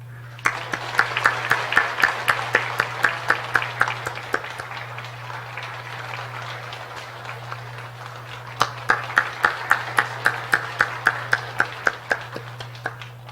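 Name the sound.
congregation applauding to welcome new family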